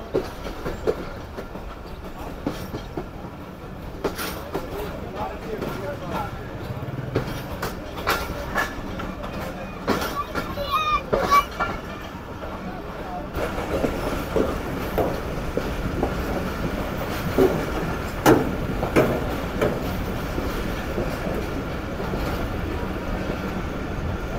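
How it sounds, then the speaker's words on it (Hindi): Old coaches of the Karakoram Express leaving Faisalabad railway station, heard from onboard as a low rolling rumble with scattered clanks and creaks, growing steadier and louder over time. "तो फाइनली ट्रेन हमारी फैसलाबाद रेलवे स्टेशन से निकल चुकी है"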